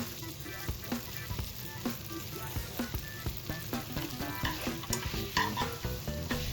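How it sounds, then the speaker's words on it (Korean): Glass noodles crackle and sizzle in a hot frying pan, a busy patter of sharp pops and spits like raindrops, with occasional stirring scrapes and no talking. "타닥타닥하면서 빗방울이 튀기는 것 같은 소리가 날 때까지 충분히 당면을 볶아주셔야 합니다"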